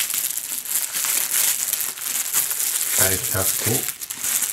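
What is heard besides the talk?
cellophane wrapping crinkling while opened with a knife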